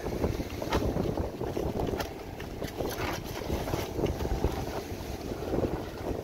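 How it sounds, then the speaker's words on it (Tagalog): Strong wind buffets the microphone on a small boat at sea, a steady loud roar with gusty bursts and water sloshing beneath, with no voices. "Malakas na naman ang hangin."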